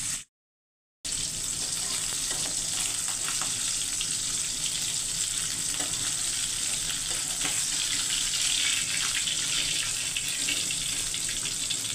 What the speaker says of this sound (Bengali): মাছগুলারে হালকা ভেজে নিয়ে তারপরে তরকারিটা বসাইয়া দিব।